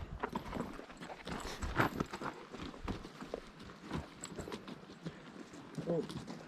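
Horses on a mountain pack trip in the Sierra Nevada walk with a steady, uneven clip-clop of hooves, fairly close, while people talk nearby throughout.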